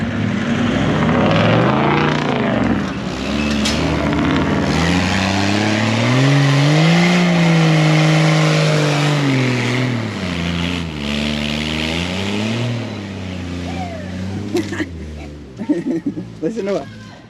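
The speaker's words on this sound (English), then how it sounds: "Listen to it. Well, the mighty V8 had to save the farm truck." A V8 farm truck engine labours and revs hard as it climbs a sand hill, its deep drone rising and falling in pitch over about seventeen seconds, loud and close, with occasional voices nearby.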